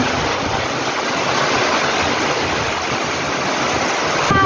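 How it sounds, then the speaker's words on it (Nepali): Loud, unbroken roar of heavy rain pouring down, a dense wash of noise that stays constant throughout. "खतरा पानी परेको छ है। कस्तो आएको छ पानी, पानी आएको छ है।"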